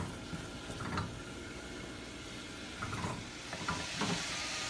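Chopped onions and garlic sizzle quietly in a saucepan for a catfish recipe, a steady low hiss with a few brief stirring scrapes and bursts near the start and toward the end.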